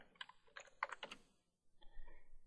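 A short burst of computer keyboard typing nearby, quick clustered keystrokes followed by a pause and a few softer key presses, entering a region name in a web design program.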